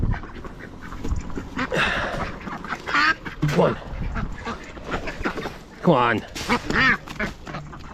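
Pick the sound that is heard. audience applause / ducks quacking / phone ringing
ducks quacking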